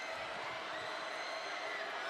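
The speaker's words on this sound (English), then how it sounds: "The crowd getting rowdy" Rowdy crowd noise at a high school 5A boys state final basketball game between Pine Bluff and Benton, a steady dense roar of cheering and voices sustained throughout, fairly loud and continuous.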